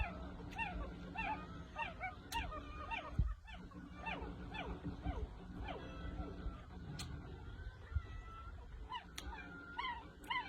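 Several fat puppies whimper and yip in short, high, repeated cries through the whole stretch, close by over a steady low background hum.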